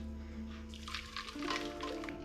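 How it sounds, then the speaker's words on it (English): Custard is poured over cinnamon doughnuts in a tray, a close, soft liquid splashing and gurgling that swells and eases over a couple of seconds beneath a low steady hum. "we pour that custard over the top of the donuts into any of the gaps"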